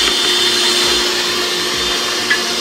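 An electric hand mixer whirs steadily and loudly as it beats egg yolk into mascarpone cheese for tiramisu, a continuous motor drone with a faint rhythmic pulsing.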